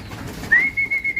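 Racing pigeons are hand fed at close range, with soft rhythmic coos and a thin whistling note over a low murmur.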